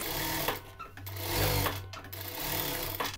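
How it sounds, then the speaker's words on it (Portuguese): A sewing machine topstitches a strip on a hospital uniform, running in loud, fast mechanical bursts with brief pauses between them. "E faço uma costurinha, um pesponto, bem rente à borda de montagem, para assentar essa costura para cá."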